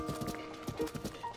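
A horse trots in the video game The Legend of Zelda: Tears of the Kingdom, with a quick, uneven run of soft hoof clip-clops at low volume.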